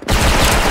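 A Bolt Dual MP9 fires in Special Force, a loud, close burst of rapid automatic shots rattling on without a break for under a second.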